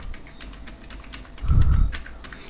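A computer keyboard clicks out an Aadhaar number, a quick run of light, close keystrokes with a dull low thump midway.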